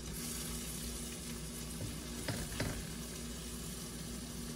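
Shrimp miki noodle broth boiling in a pot and being stirred, giving a steady bubbling sizzle throughout with a few soft spoon scrapes and knocks near the middle; no voices.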